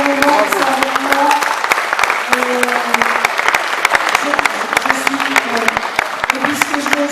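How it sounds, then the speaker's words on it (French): Audience applause for a town festival committee team, a dense crackle of many clapping hands sustained throughout, with a voice speaking over it near the start and again briefly later. "je voudrais terminer par l'équipe du comité des fêtes, qu'on peut applaudir aussi"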